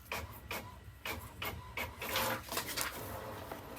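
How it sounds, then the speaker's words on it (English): A printer runs in the background, its print head sweeping back and forth in repeated mechanical passes with rasping, whirring strokes. "that's my printer going there in the background"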